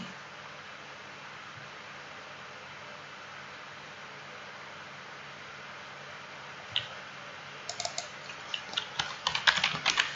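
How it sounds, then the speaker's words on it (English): A computer keyboard is typed on in short, quick bursts of light clicks toward the end, after several seconds of faint steady hiss. "So let's type localhost 8080."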